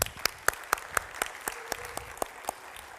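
A small audience at a business conference gives a sparse round of applause for the host, with a few sharp, distinct claps spaced roughly evenly apart over a quiet room.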